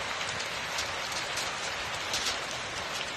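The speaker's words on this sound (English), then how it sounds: "There's hailing in my house." Steady dense patter of hail or icy pellets falling indoors inside a house, a continuous hiss of tiny impacts at even loudness throughout, with no talking.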